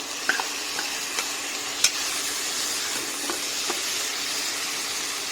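Tomatoes and lightly browned onions sautéing in a pan give a soft, steady sizzle and hiss, with a few faint stirring clicks and taps scattered through.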